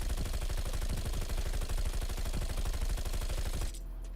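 A Bizon submachine gun in Call of Duty Black Ops Cold War fires one long, rapid, unbroken burst at close range for several seconds, then stops abruptly.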